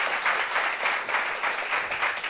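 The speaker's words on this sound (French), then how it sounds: "On va applaudir" Steady crowd applause, a dense wash of clapping hands that keeps a fairly even loudness throughout, with no voices over it.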